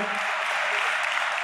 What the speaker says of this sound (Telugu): మనమందరం చేతులెత్తి చప్పట్లతో ఒకసారి